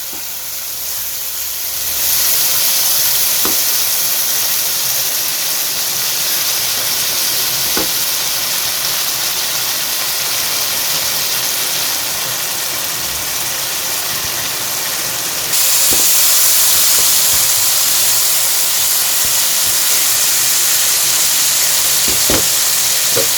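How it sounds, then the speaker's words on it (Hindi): Chicken pieces grilling in a pan for butter chicken give a steady, loud sizzling hiss throughout, with occasional brief pops and clicks and a brighter surge in the last stretch; no voices. "इसको पकाएंगे 5-6 मिनट के लिए, ग्रिल करेंगे चिकन को।"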